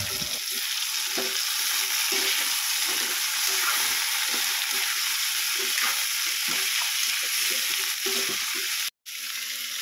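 Moringa pods and sweet potato frying in a pan for Pangasinan-style pinakbet, a steady close sizzle with a series of soft stirring knocks and scrapes, broken by a sudden brief dropout near the end; no talking.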